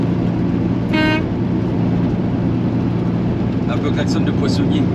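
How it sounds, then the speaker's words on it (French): Truck air horn with deep trumpets gives one short honk early on, amid steady road and engine rumble, followed later by brief fainter toots. "je m'achetais une voire deux grandes trompes pour que le son soit plus grave"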